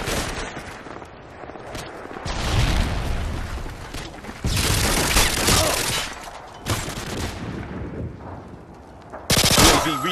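Rapid automatic bursts from a sentry gun in Modern Warfare 2 during a hardcore team deathmatch on Karachi, loud and sustained in several long volleys mixed with distant booms.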